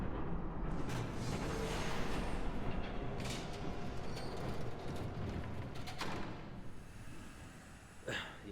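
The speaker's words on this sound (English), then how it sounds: "There's a train coming." A train rumbles past in the Batman Telltale Series game, a steady heavy roar holding for several seconds with a few sharper bursts and a brief clank near the end.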